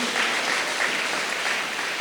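A congregation at the Cathedral St. Paul of the Diocese of Butare applauds, a dense, steady wash of many hands clapping together, loud and sustained throughout without talk.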